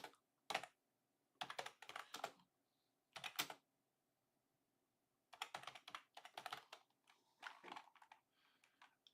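Typing on a computer keyboard in irregular bursts of quick clicking with short pauses between, fairly quiet and close, no talking.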